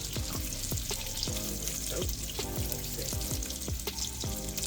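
Onions frying in a pot with a steady, close sizzle and crackle, scraped and stirred now and then, without any talking.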